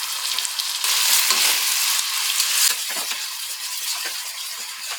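Tomatoes with curd and salt being stirred in a pan, a loud continuous wet sizzle with scraping stirs and bubbling bursts, no voices.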